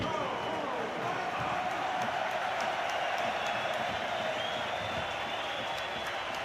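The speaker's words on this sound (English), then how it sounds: "Cole Palmer, let me put my mic down, Ben, and applaud this young man." A stadium crowd applauds a substituted player leaving the pitch during a Premier League match between Chelsea and Everton, a steady, dense wash of clapping and crowd noise that holds at even loudness throughout.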